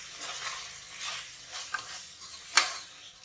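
Spices of red chili powder, garam masala and turmeric stirred and frying in hot oil in a pan, a faint steady sizzle with soft scraping sweeps and one brief sharper clink.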